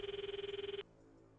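A phone in the video game Steins;Gate 0 rings with a steady electronic trill, a rapid pulsing tone that repeats evenly for under a second and then cuts off, leaving quiet background.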